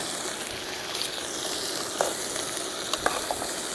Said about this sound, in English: So this is already starting to saute